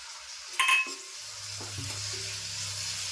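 Chopped onion and tomato sauté in a pan, a soft steady sizzle after a brief metallic clink of a utensil against the pan, quiet and close with no talking.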